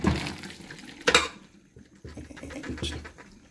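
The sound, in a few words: cooked noodles and hot water poured into a colander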